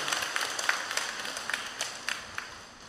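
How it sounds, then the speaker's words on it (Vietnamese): Scattered claps from a church congregation welcoming new members of the Catholic Mothers' Association at a Saint Monica feast Mass in Chí Hòa, faint and sparse, a few distinct hand claps over a soft room hiss. "Chúng ta cùng vỗ tràng pháo tay"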